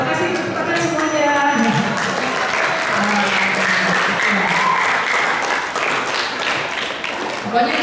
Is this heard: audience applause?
yes